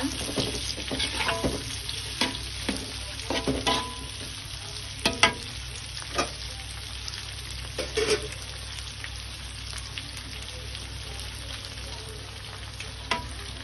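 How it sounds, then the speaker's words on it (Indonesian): Shrimp stir-fry in a pan with wilted chili, sizzling steadily up close while a utensil scrapes and clacks against the pan in irregular strokes. "Sekarang cabenya udah layu, langsung aja kita masukin udangnya ya. Masukin udangnya dulu, kita tumis udangnya."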